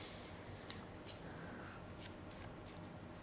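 Tarot cards shuffled and handled during a reading, a soft continuous riffling and slapping with small taps, close and fairly quiet, no talk over it.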